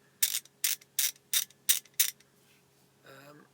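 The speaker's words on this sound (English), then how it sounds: "This is a 3/8 flexi head. Ratchet." A 3/8-inch flexi-head ratchet made by Clark clicks six times in a steady rhythm, close and crisp, followed by a short burst of speech.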